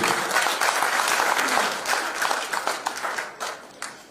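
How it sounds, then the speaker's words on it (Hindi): Trainees at an agriculture products training session give a hearty round of applause, steady dense clapping that thins into scattered claps toward the end. "तो आप सभी के लिए एक बार जोरदार ताली होने चाहिए"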